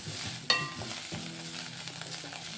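Onions fry gently with turmeric in a pan, a low sizzle under a few stirring scrapes and one sharp utensil clink near the start.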